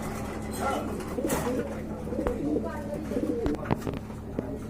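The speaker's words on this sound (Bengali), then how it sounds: "চমৎকার হান্ড্রেড পার্সেন্ট কোয়ালিটি ফুল এক জোড়া কবুতর" A pair of blue bar lakka pigeons coo in repeated soft, throaty phrases close by, with people talking over them and a few sharp knocks and clicks in between.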